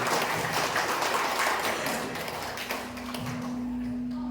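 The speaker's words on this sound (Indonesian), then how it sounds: "Kasih tepukannya." Audience applause at a school quiz competition final, steady dense clapping filling the hall for several seconds before tapering off, with a low hum running underneath.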